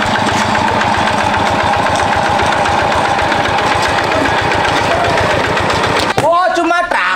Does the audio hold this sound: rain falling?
no